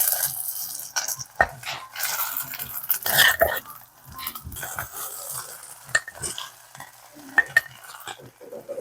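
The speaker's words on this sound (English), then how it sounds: "When you hear the sizzle, drop the egg yolk and mix it in." Egg yolk frying in a hot pan while bibimbap is prepared for a crowd, crackling sizzle with stirring scrapes and utensil clinks, loud and close, no talking.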